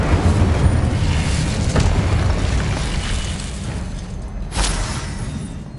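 An Incendio fire spell blasts in Hogwarts Legacy, a loud, roaring burst that holds steady for several seconds before a second sharp flare near the end, with no voices.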